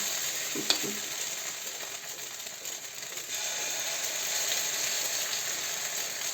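Soft sizzling of grated potato pancake batter frying in a pan, with light scraping and a brief clink of a spoon early on.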